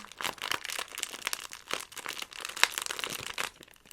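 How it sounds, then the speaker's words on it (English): A crinkly plastic bag is opened and handled up close, giving dense bursts of sharp crackling and crinkling with small pauses between, recorded intimately in a quiet room. "Open up this crinkly plastic bag."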